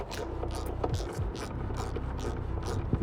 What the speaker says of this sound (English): we're gonna tighten up the clamp